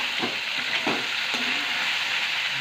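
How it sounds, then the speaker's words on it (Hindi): Crab frying with onion in a pan, a dense, even sizzle with a few soft stirring scrapes early on, close and continuous without any voices. "प्याज के साथ उसको भी अच्छे से भून लीजिए।"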